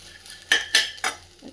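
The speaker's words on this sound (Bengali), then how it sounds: "সন্ধ্যেবেলা খাওয়ার জন্য একটু মুড়ি মাখছি" Puffed rice is mixed with soaked chickpeas and fried potato in a bowl, three sharp clinking scrapes of a spoon against the dish following one another quickly, close and fairly loud.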